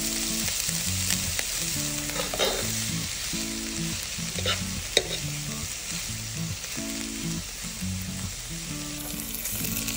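Onion, garlic and ginger fry with cumin seeds for a masala, sizzling loudly and steadily up close, with rhythmic stirring scrapes through the pan and no voices.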